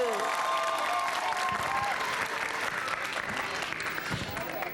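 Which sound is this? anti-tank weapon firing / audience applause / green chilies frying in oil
audience applause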